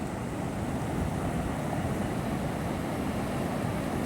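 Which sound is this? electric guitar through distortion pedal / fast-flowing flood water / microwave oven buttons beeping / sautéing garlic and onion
fast-flowing flood water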